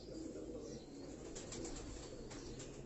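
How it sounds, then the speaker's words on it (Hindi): Pigeons from Meerut, India, coo softly in a rooftop loft in Karachi, their low murmuring calls steady under a constant wash of background noise, with no talking. "ये मेरठ इंडिया से आए हुए ये कबूतर हैं दोस्तों"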